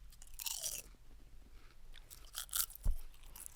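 Close, crisp crunching as crispy kale is bitten and chewed, a few sharp crunches between quieter chewing.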